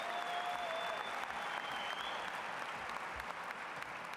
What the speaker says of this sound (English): How about a round of applause for all our speakers tonight for their senior addresses?